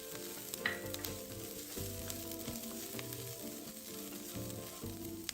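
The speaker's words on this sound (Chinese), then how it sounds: "油爆至紅蔥片溢出香氣，再將其他香料順序加入。" Sliced shallots and garlic cloves sizzle in a tablespoon of hot cooking oil in a pan, a steady close crackle and hiss with soft background music underneath.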